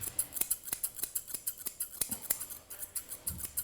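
Scissors snip rapidly and repeatedly up close, trimming a Lakeland terrier's beard, the crisp metallic cuts coming in a quick, uneven rhythm.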